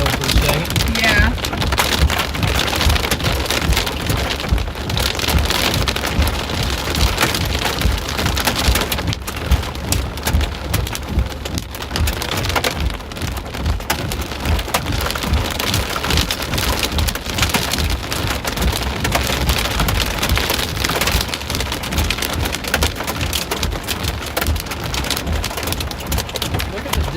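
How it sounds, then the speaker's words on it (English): Hail hammering a storm-chase car in a Texas storm, a dense continuous patter of hard impacts on the vehicle, with occasional voices inside. "Let it hail for a second."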